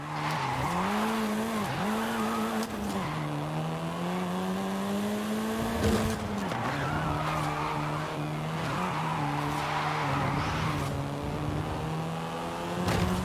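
A Volkswagen Golf R drifts in Forza Horizon 5, its engine droning steadily with pitch dips as the tires skid and squeal continuously throughout, loud and close.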